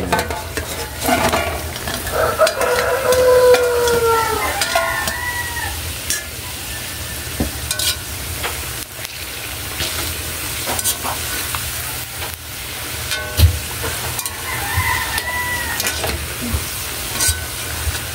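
Bananas frying and being stirred in bubbling caramelized sugar in a pan make a steady close sizzle, with scraping stirs and occasional clinks running throughout.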